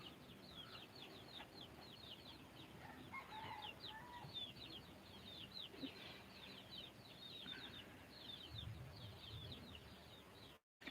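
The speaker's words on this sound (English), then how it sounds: "I'm gonna throw some food out for the chickens because they keep crying" Chickens cluck and cry for food in a continuous faint chorus of chattering calls, some louder squawks mixed in, against steady outdoor background noise.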